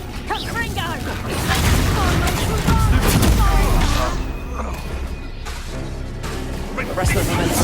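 Bombarda blasting spell in Hogwarts Legacy, booming explosive hits and crashing impacts amid a chaotic duel with combat noise and spoken voices, loud and layered over several seconds.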